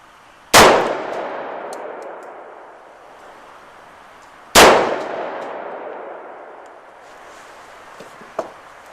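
A Bond Arms Snake Slayer .410 shotgun pistol fires two loud, sharp reports about four seconds apart, each ringing out in a long fading echo, with a small click afterward.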